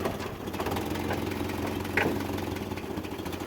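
A 1940s Willys jeep engine idles and runs near and loud while it is shifted through the gears, a steady rough chugging with one brief clunk partway through.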